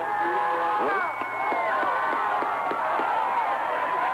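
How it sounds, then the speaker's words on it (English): A high school football crowd at a 1991 playoff game between Robinson and Duquoin roars and cheers, a broad sustained swell of voices with whoops and shouts rising over it, heard from amid the stands. "It's the roar of the crowd."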